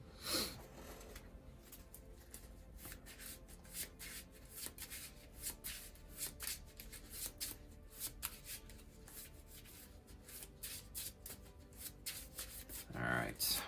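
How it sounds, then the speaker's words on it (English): Cards for the Marvel Legendary deck-building board game are shuffled by hand close up, a long run of dense riffling and sliding with repeated crisp bursts and a louder riffle at the end. "closing my eyes while I shuffle"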